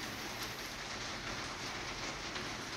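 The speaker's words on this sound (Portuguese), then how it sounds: "o barulho da chuva diminua" Rain falls steadily as a soft, even hiss of drops on a surface, faint and continuous with no voices. It sits in the background throughout.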